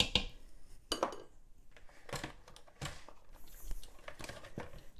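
A utensil stirs bay leaves into chickpea curry sauce inside an Instant Pot, giving a few sharp metallic clinks and scrapes against the pot, close and fairly quiet.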